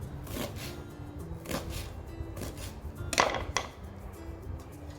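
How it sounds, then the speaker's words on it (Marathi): Knife chopping washed coriander with tender stems on a board, a few separate thuds spread out in a slow, uneven rhythm, close and fairly quiet against a soft background. "कोथिंबीर आपण धुवून सुकून घेतलेली आहे थोडी कापून घेऊ"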